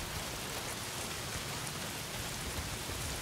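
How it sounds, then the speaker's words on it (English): Heavy rain pours down in the video game Days Gone, a steady, dense hiss of downpour at constant loudness throughout with no voices. "Well, not if it's pissing down rain."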